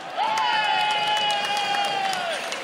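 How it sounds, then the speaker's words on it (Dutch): Audience applause at a stage event, a steady wash of clapping and crowd noise with a long, sustained whistle or whoop riding over it throughout. "Mogen je een applaus voor Bibian"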